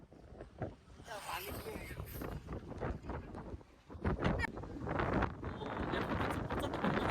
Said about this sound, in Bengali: বাতাস হইতেছে।